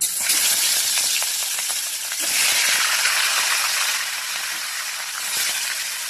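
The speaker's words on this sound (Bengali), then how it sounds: "তেল গরম হয়ে গেছে, এবার আমি মাছ দিয়ে দেবো" Catla fish pieces sizzle in hot oil in a kitchen pan, a loud, continuous close-up hiss with scattered crackles and pops that swells and eases over several seconds.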